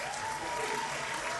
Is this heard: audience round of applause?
yes